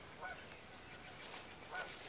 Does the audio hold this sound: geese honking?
yes